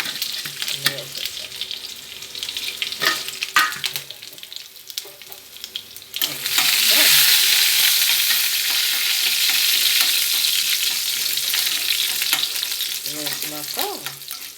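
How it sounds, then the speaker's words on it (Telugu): Green beans sizzle in hot oil with curry leaves and dried chillies. Intermittent stirring scrapes come first, then a loud, steady frying hiss rises and holds to the end. "బాగా వేపుకోవాలండి ముక్కల్ని."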